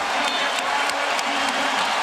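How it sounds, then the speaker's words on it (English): A basketball arena crowd at an NBA playoff game between the Pacers and Bulls swells into steady, dense cheering and applause right after a defensive stop, a loud continuous roar with scattered whoops and no break. "And here comes the crowd."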